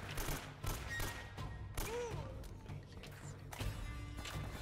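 Gunfire in Uncharted: Drake's Fortune cracks out in a quick string of sharp shots and short bursts, with a brief voice heard partway through.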